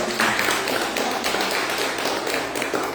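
A church congregation at a family blessing service claps in praise, hands striking in a brisk, regular rhythm that fills a reverberant room, moderately loud and without talk.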